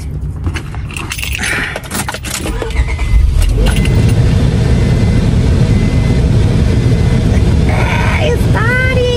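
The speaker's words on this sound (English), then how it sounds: "let's see if the car starts." A car engine cranks and catches after a jangle of keys, then settles into a steady loud idle running under the rest of the recording, with a few brief squeaks near the end.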